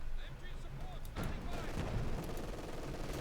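Rapid bursts of MG-42 machine gun fire in the Company of Heroes 2 strategy game, crackling under dense battle noise and booming impacts, with no voices.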